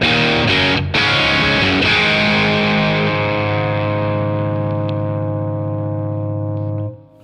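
An electric guitar run through an Origin Effects Revival Drive Compact overdrive pedal on its cranked plexi setting: loud, distorted strummed chords, then one ringing chord left to sustain and slowly fade.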